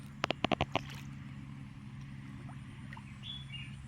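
A small village stream flows steadily after fresh rain, a soft continuous rush and gurgle heard from nearby, opening with a few sharp knocks.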